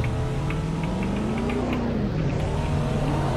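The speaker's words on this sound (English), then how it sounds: "we got street races over here" Street race cars in a GTA roleplay game roar past one after another near Sandy Shores at night, a steady loud engine drone whose pitch climbs and falls as they accelerate through.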